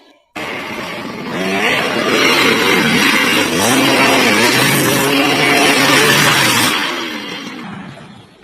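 A motorbike engine revs and pulls away, a loud close rising and wavering drone that holds for several seconds and then fades as it rides off.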